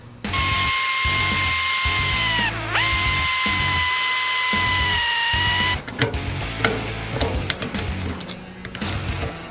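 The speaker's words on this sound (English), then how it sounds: "I'm drilling it out to replace it with the new assembly" A high-pitched power drill drills out a car's gas cap lock, whining steadily and loudly, briefly slowing and dipping in pitch, then stops and gives way to clattering and rattling.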